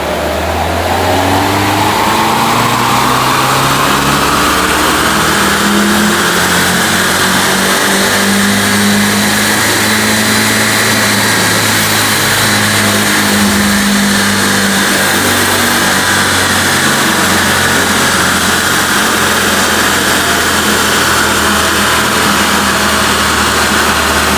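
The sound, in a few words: Alfa Romeo MiTo engine revving on dyno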